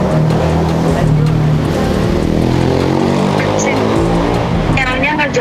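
Roadside traffic with motorcycles passing, a constant loud engine drone and hum filling the whole stretch, with a voice speaking underneath it.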